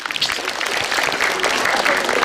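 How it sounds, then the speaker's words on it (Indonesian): A comedy show audience at a stand-up event breaks into loud, dense clapping that builds and holds steady for a couple of seconds, with crowd noise mixed in. "Tepuk tangan dulu dong buat mbak ini."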